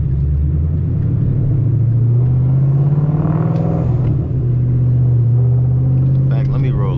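Supercharged Ford Mustang GT pulling hard in third gear, a loud, steady engine drone rising in pitch throughout, heard from inside the cabin with continuous road and wind rumble.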